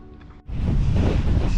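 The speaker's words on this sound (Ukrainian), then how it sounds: "Божевільний вітер просто." After a brief quieter moment, a strong mountain wind in winter on Malyi Gorgan in the Gorgany range suddenly roars and buffets the microphone, staying loud and rough.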